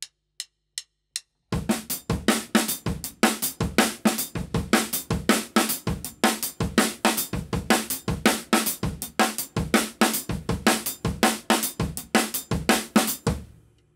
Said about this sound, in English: we're going to add a snare drum on the and of beat 1 and the of beat 3